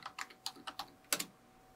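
A computer keyboard is typed on in a quick, uneven run of about a dozen light clicks close to the microphone, with a short pause before two final keystrokes, quiet overall and with no talk.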